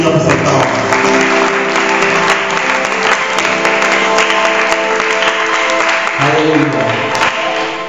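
A church congregation applauds loudly and continuously, a dense, sustained clapping over music, with no break.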